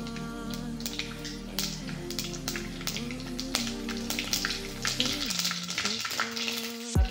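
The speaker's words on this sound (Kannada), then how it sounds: "ಇದು ಎಣ್ಣೆ ಕಾಯ್ದಿದೆ. ಇವಾಗ ನಾನು ಸಾಸಿವೆ ಹಾಕ್ಕೊತಾ ಇದ್ದೀನಿ" Mustard seeds sizzle and crackle in hot oil for a bhele rasam tempering, a dense, loud frying hiss with rapid pops throughout, then settling near the end.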